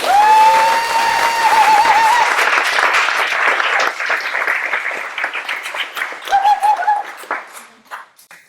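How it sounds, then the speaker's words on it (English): Loud, dense applause from a crowd at a book launch fills the room, with a few whoops and cheers on top, then thins into scattered claps as it fades. "Can we just give her a round of applause?"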